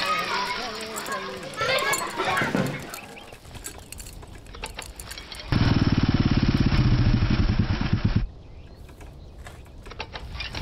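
A motorcycle engine runs loud and steady for a few seconds in a Hindi movie scene, after excited children's voices and shouting.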